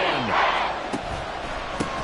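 Stadium crowd noise from the Madden 24 football video game, a steady broad roar that swells slightly, with a couple of brief thuds near the end.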